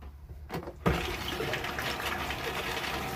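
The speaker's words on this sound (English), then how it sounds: "Toilet flushes fine." A toilet in a 1999 Rockwood camper flushes with a sudden rush of water that starts abruptly and keeps swirling steadily, fairly close and with no talking over it.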